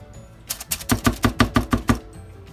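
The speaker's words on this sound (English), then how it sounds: "I'm going to use my spatula to press this down in the pan" A spatula pressing thick peanut butter chocolate chip granola bar batter into a pan gives a quick run of about nine sharp, evenly spaced taps and thumps, close and fairly loud, with no talking.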